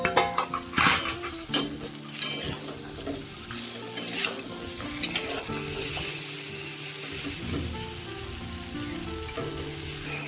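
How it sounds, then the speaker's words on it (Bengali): Stalks and lentil dumplings stir-fried together in a pan for a bitter vegetarian curry, giving a steady close sizzle broken by repeated scraping stirs and light clinks of a utensil against metal, with no talking. "সব সবজি ভাজা হয়ে গিয়েছে মোটামুটি"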